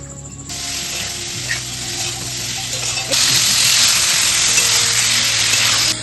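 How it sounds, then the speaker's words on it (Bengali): Chicken pieces frying in a pan with a spice mix of cumin, coriander and dried chilli powder and salt: a steady, close, broadband sizzle that swells noticeably louder about halfway through, over a low background hum. "এবার মশলাটাকে একটু কষিয়ে নিয়ে দিয়ে দেবো চিকেনগুলো"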